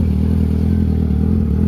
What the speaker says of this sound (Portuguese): Pra vocês terem uma noção de como que fica o barulho da moto na rua